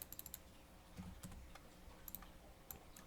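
Typing on a computer keyboard while entering text in a Scratch project, a run of quick close key clicks in short bursts with pauses, no voice.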